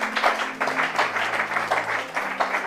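A church congregation applauds during a French-language Bible teaching session, with steady, dense clapping that fills the room over a low sustained tone, with no words spoken.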